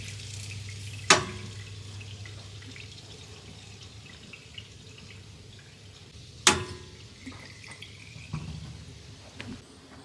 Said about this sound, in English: I can see the water flowing through the toilet, out down here through our stub